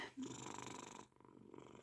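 Cat purring very close up, a soft rhythmic rumbling pulse that continues steadily with a slight drop in level partway through, with no talk.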